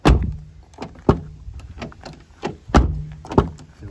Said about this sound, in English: shut the door a few times.